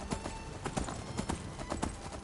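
Horse hooves clip-clop in the Skyrim video game, a steady, even trot of quiet, distinct knocks over a soft ambient bed, with no talk.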